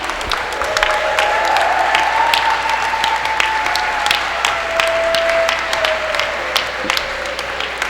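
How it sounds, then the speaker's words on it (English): A school audience applauds steadily for the senior swimmers at an Upper St. Clair swim meet against Baldwin, dense sustained clapping with light crowd noise echoing through an indoor pool hall. "How about a great round of applause?"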